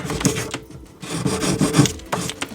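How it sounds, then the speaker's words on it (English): A ring is sanded with 400 grit sandpaper while the sandpaper is worked around it to smooth out file marks. The result is a close, steady rasping rub in short repeated strokes with brief pauses, and no one speaks. "I'll start with a 400 grit sandpaper, and I'll just work my way around, get rid of all the file marks"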